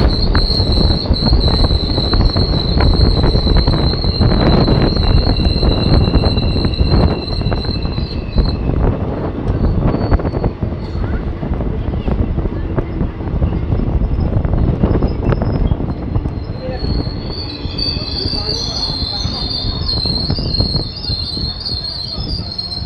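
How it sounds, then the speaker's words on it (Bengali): An Ahmadpur–Katwa passenger train rolls into Gyandas Kandra station with a loud continuous rumble of wheels on rails, high-pitched squeals of wheels and brakes rising and fading throughout, close and constant. "ট্রেন এসে পৌঁছালো জ্ঞানদাস কান্দ্রা স্টেশন।"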